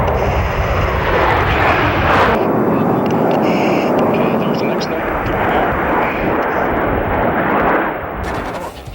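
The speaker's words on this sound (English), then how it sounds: "here again is a solo vertical takeoff and climb with a corkscrew roll" Jet aircraft making a solo vertical takeoff and climb with a corkscrew roll at an air show, a loud, roaring engine blast that swells and then slowly fades, with a voice speaking over it.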